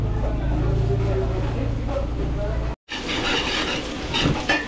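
A spoon stirring seasoned food with black pepper in a hot pan at an outdoor resort event, scraping and sizzling steadily, briefly cut off, then resuming with brighter clatter and background noise.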